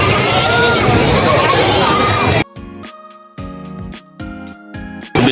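Goats bleat in short, repeated harmonic bursts at a busy rural livestock market near Goripur bazaar before Eid, where farmers sell home-raised goats; a loud stretch of crowd babble and chatter comes first, then several distinct bleats stand out.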